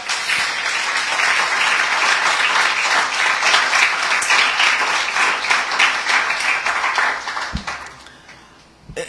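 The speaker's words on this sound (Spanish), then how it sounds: "Pues dar un aplauso al Rey, iglesia." A church congregation claps together in a steady, dense wave of applause lasting most of nine seconds, fading near the end with a thump and a brief hint of a voice.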